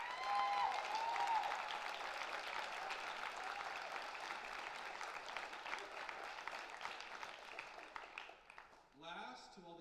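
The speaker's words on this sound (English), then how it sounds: "Let's give our staff a round of applause." Audience applause for school staff at a high school graduation ceremony: dense, sustained clapping from a large crowd for about eight seconds, fading out, followed by a voice starting to speak at the end.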